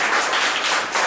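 An audience claps to welcome a speaker, a dense, steady burst of applause that fills the whole moment without pause.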